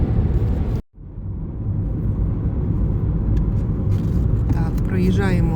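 A car drives along a road after leaving a fuel station in Ukraine, a steady loud rumble of engine and tyres filling the cabin after a brief dip, with faint rattles and some clicks near the end.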